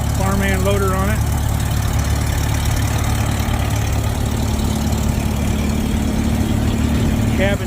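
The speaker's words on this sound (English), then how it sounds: "Got all these engines running." Several farm machinery engines idle together at an outdoor equipment auction, among them a small Farmall tractor with a loader, a steady loud low rumble throughout while voices talk briefly over it.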